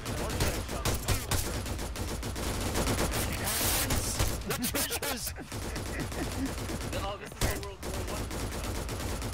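A loud, continuous firefight in the military video game Arma 3, with many overlapping gunshots and automatic bursts from near and far, plus occasional crashes and voices under the shooting.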